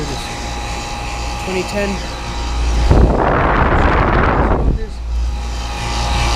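An outdoor heat pump unit running in Fairfax, a loud broadband whoosh of its fan and compressor that swells for about two seconds amid a steady mechanical hum, with someone talking over it.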